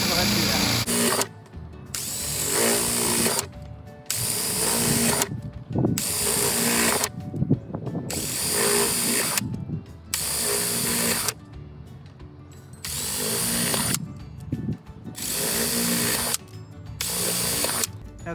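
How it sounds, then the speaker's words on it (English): Power drill boring a series of holes inside a marked circle on a DIY chicken feeder, loud whining bursts of several seconds each separated by short pauses, close up. "you're gonna take your drill bit and on the inside of the circle, you're gonna start by drilling a bunch of holes"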